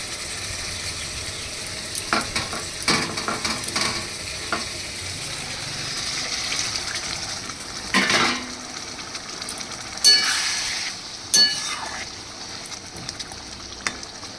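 Water goes into an oily pan of pointed gourd, and the pan flares into loud sizzling bursts between steady frying and repeated stirring scrapes.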